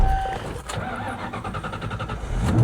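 A salt-water-flooded car that sat for months in a field runs with a steady mid-pitched engine hum and a faint rising rev toward the end, with no talk over it.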